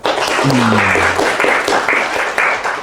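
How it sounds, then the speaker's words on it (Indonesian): Short burst of clapping from a university classroom audience for a student named Nisa, dense and close, lasting under three seconds with a faint voice briefly audible at the start. "Tepuk tangan untuk Nisa."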